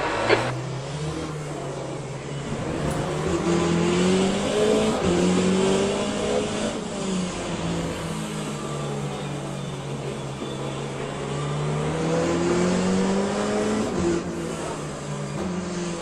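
Race car engines roar through the Le Mans Ultimate video game at Circuit of the Americas, a steady, loud drone with rising and falling revs as the car shifts and other cars close in.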